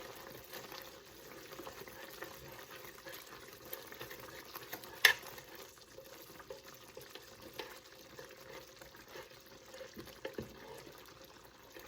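Baked potato soup thickening in a pot on the stove, giving a faint, steady low bubbling and simmering hiss throughout, with a couple of soft clinks.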